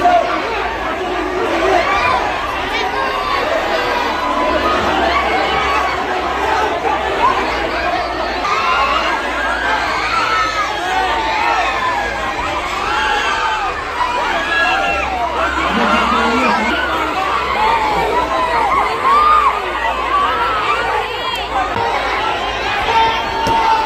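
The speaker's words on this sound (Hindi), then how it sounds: "पुलिस को देखकर भीड़ बढ़ गई और लोगों ने गुस्सा जाहिर किया" A crowd gathers at a crime scene, with a dense, continuous babble of many voices talking over one another and occasional bursts of louder chatter.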